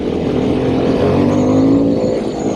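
A Harley-Davidson Sportster S motorcycle accelerates hard, its engine roaring loud and steady close by, pitch climbing through the pull with no talk.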